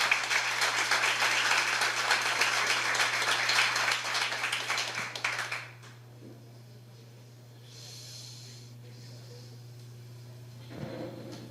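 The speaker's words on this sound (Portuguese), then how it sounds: "Alguém consegue aplaudir o Senhor com vontade nessa noite?" A congregation applauding at an evening church service, dense loud clapping for about five seconds that then cuts off abruptly, leaving a quiet room with a low hum and faint scattered noises.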